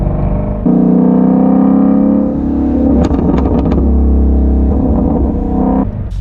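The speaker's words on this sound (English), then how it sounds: "the exhaust has this like nice crackle when you're high up in the RPMs and you let off the throttle" A loud, close Shelby GT350 engine hums steadily, breaking midway into a quick run of sharp exhaust crackles and pops when lifting off the throttle at high RPM, before settling again.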